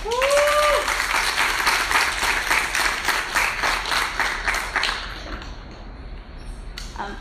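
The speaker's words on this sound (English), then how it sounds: "can I take a moment to give a round of applause to all of our speakers and to Half Off Books" An audience at an innovators event breaks into loud, dense applause for the speakers, sustained for several seconds before thinning and fading out.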